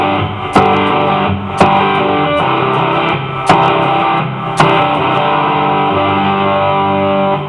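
Distorted electric guitar plays the verse part of a song with hammer-ons, sustained overdriven chords broken by a few sharp pick attacks, loud and close with no talking.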